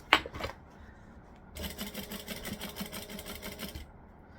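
A sewing machine stitching a drop-in lining runs in a steady rapid rhythmic chatter for a couple of seconds, close and fairly loud, after a sharp handling knock at the start.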